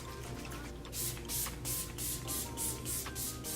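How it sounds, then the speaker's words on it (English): A makeup setting spray is pumped over a face in a run of short, crisp hissing bursts, about six evenly spaced sprays, close and fairly quiet with no talking. "To finish off this look, I'm gonna go in with their setting spray and set this entire face."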